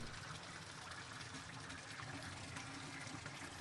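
Water drains in the game Still Life as a steady, soft rushing trickle, continuous and even with no pauses, fairly quiet and without voices.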